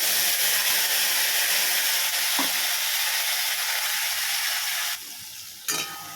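Ground spice paste hits hot oil for a khichuri made with Gobindobhog rice, giving a loud, steady broadband sizzle throughout, with a brief clatter midway and a drop in intensity near the end.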